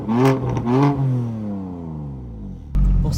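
A BMW M4 CS engine revs hard twice in quick succession, then its pitch falls away in a long descending whine before another sharp loud burst at the end, heard close.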